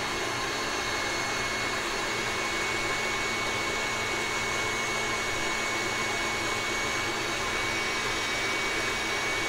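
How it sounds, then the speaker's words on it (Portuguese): Stand mixer whipping French macaron batter, its motor running as a steady, loud whirring drone throughout with no pauses and no talking. "Eles conseguem ver dentro da batedeira"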